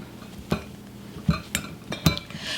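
Butter and confectioners' sugar being mixed together in a bowl: a few scattered clinks and scraping knocks of a utensil against the bowl, spaced irregularly and fairly close.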